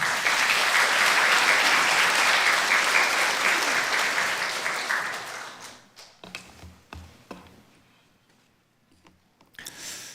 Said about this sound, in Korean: 우리 환영의 의미로 박수로 맞이하겠습니다.